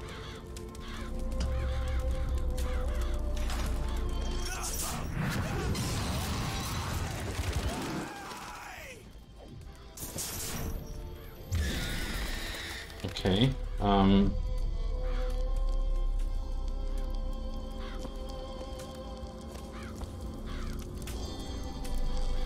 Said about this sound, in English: Those crows really devoured him very quickly.